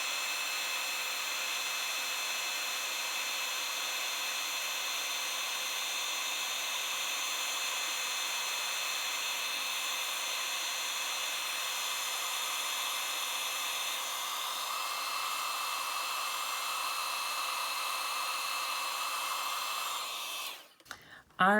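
Heat tool blowing steadily to melt embossing powder on a stamped card, a loud continuous fan whir with high whine that holds unbroken for about twenty seconds before cutting off abruptly.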